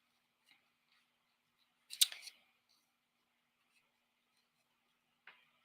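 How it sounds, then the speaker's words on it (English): Scissors snipping paper while making Christmas cards: one short, close cutting burst, then a faint second snip a few seconds later, with near silence between. "I'm just continuing to cut here"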